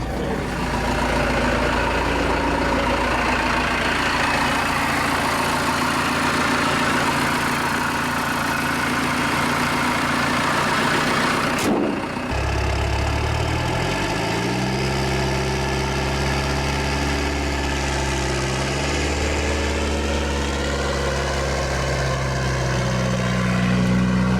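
Cummins diesel swapped into a Ford Bronco, fitted with a turbo blanket and exhaust wrap, idling loud and steady throughout with a deep low rumble, a brief dip partway through, then settling into a smooth, even idle.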